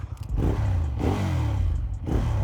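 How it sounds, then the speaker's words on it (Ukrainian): A Ducati motorcycle engine revs in short bursts, each blip rising and falling in a throaty, pulsing note, loud and close with a mechanical clatter. "Так оборотики набирає непогано і звук цікавий"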